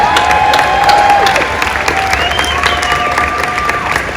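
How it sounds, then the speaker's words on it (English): An audience applauds and cheers for athlete Jessica Long, a steady wash of clapping from a crowd in a hall, with a few whistles and shouts running through the whole stretch. "give her your applause"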